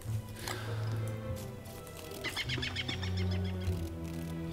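Bird squawking in the video game Don't Starve, a string of honking, goose-like calls over a steady droning background, fairly close and continuous.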